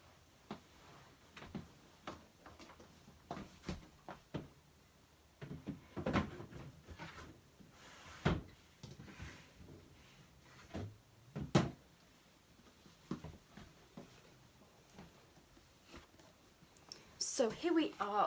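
Sock drawer being pulled open and pushed shut, giving repeated sharp wooden clicks and knocks at close range amid soft handling rustle, with a louder cluster of bangs near the end.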